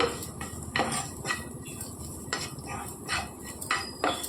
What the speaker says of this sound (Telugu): ఇందులోనికి కొబ్బరి తురుము కూడా వేసేసుకోవాలి వేసి వేయించుకోవాలండి